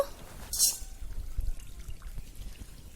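A short, soft pour of sesame oil into an iron pan on a wood-fired stove, a brief liquid splash near the start followed by faint low background rumble.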